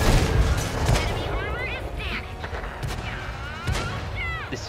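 A World of Tanks M48A5 Patton firing HESH rounds in Cold War mode delivers heavy cannon booms amid battle noise, with someone talking over the gunfire.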